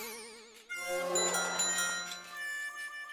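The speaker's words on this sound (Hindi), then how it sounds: "चंपक, जब भी साइकिल की घंटी बजती है ना तो ऊंचा नीचा होते रहता है।" A bright metallic bicycle bell rings with a wavering, up-and-down pitch, its shimmering tone sustained and fading over a couple of seconds.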